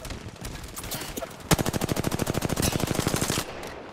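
Close, loud automatic gunfire in Apex Legends, a fast, even stream of about twenty sharp shots lasting roughly two seconds, with softer game sounds before and after.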